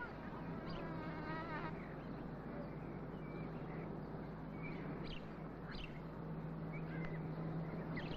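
Bees buzzing around flowering marigolds in a sunny garden, a faint continuous insect drone under a low steady hum, with a few soft bird chirps in the background.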